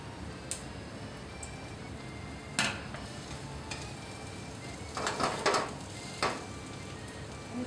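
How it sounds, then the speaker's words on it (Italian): Dentex fish browning in a pan during Sicilian Mediterranean cooking, giving a steady low sizzle with a few sharper crackles and pops, close and moderately quiet, with no talking. "mettiamo il nostro dentice. Lo lasciamo rosolare un po'"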